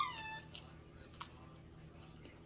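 A cat gives a short, faint meow right at the start, then the room falls to a low hum with a couple of soft knocks.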